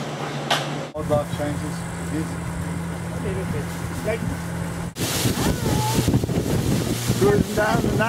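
A boat cruising down the Napo river in the jungle, its steady engine hum under heavy wind buffeting the microphone, with loud rushing noise and people talking throughout.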